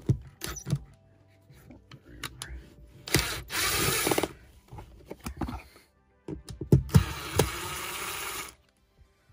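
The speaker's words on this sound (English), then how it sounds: "Let me get a drill here." A cordless drill backs the screws out of a 12-volt RV light fixture: two loud whirring bursts with clicks and handling noises between them, close up and without speech.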